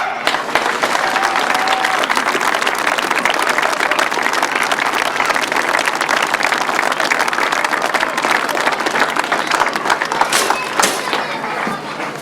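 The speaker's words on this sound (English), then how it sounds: "Massive round of applause, please." Crowd applause sustained and loud throughout, a broad wash of clapping and cheering at a 2008 international grasstrack motorcycle race meeting, with voices mixed in.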